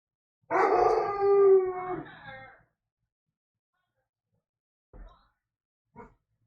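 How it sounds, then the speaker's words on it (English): A dog indoors lets out one long, loud, wavering howl, then after a pause gives two short, muffled barks, each separated by silence. "there's the dog who wouldn't leave the yard if he could, barking from inside"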